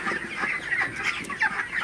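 Several broiler chickens, 26 days old, cluck and murmur close by on a farm in hot weather, in a busy, overlapping chorus of short calls.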